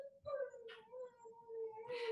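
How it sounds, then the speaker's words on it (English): A ten-month-old puppy shut in a bedroom whines and howls in long, wavering tones with a few brief yips, faint and distant in the background. "my puppy who's 10 months old locked in my bedroom making lots of noise in the background"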